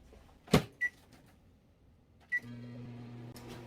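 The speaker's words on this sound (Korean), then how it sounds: "이렇게 넣어갖고 이제 전자레인지에 가보겠습니다." Kitchen microwave oven handled while a multi-cooker pot of boiled pork belly goes in: a loud clunk of the door, a couple of short beeps, then a steady low hum as it starts running.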